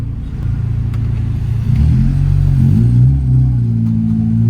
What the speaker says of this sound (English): So I literally launched now, I think at 2000 RPM.